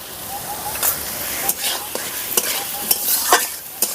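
Potatoes with spices are stir-fried in a pan, a soft hissing sizzle broken by repeated sharp scrapes and clinks of a spatula at irregular intervals, close by and without speech.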